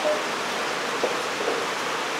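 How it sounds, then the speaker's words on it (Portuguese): Steady rain falls outside a house during a power outage, a continuous even hiss with no distinct drops, heard alone and fairly close. "agora é sentar e esperar a chuva passar"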